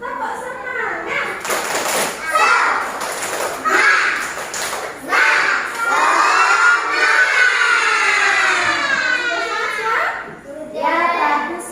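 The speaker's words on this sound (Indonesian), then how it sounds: "Sebelum kita mulai belajar kita tepuk semangat dulu ya." Young pupils in a classroom chant together and clap in a rhythmic 'tepuk semangat' routine, with bursts of clapping under group voices that are loud and close, with a brief pause before the chant picks up again near the end.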